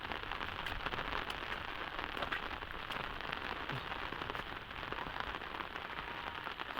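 Rain falls steadily on a farm field and path, a soft, even hiss of drops on wet ground with scattered tiny crackling patters, continuous and fairly quiet throughout.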